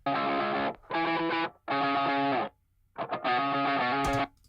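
Fuzzy, heavily distorted bass notes from a Big Muff fuzz pedal through a Fender Twin Reverb amp, four sustained chunks separated by brief pauses, loud and saturated with no talk.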